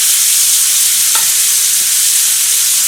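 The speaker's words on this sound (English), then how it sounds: "We will add some butter, more of it" Butter sizzles loudly and steadily in a hot pan alongside pork tenderloin, a dense continuous frying hiss with a couple of faint clicks, no talking.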